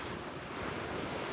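Strong wind roars across a beach, mixing with the steady wash of waves into a loud, dense, unbroken rush with heavy wind buffeting on the microphone.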